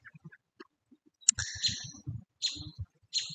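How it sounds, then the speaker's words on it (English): Several owls call outdoors, giving short hooting and screeching bursts in irregular clusters, with soft low hoots in between, fairly close and clear against a quiet background. "Right now I have a lot of owls around me."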